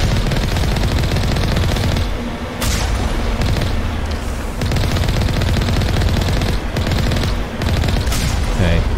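Automatic turret gunfire in the Mass Effect video game on Noveria, loud and continuous with rapid bursts and booming impacts, briefly easing twice before resuming.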